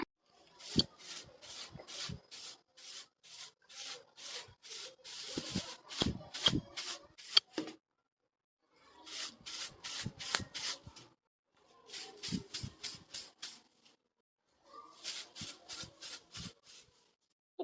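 Broom sweeping a floor in a cartoon, with bursts of quick rhythmic scratchy strokes separated by short pauses, close and clear with no talking.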